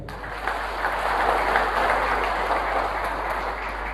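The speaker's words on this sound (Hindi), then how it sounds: "इनके लिए एक बार जोरदार तालियां" Audience applause at a product demonstration event, a steady dense wash of clapping that holds evenly from start to finish.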